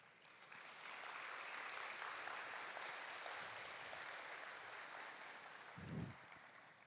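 A church congregation applauds warmly during a Korean young adults' worship service, a soft even wave of clapping that swells, holds and tapers, ending with a brief low thump.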